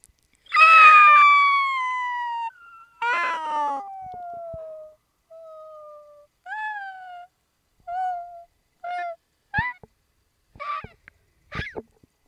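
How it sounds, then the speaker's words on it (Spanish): A loud, piercing scream opens, followed by a string of shorter wailing, howl-like cries that fade and break into separate bursts. "se escucha un grito tan fuerte"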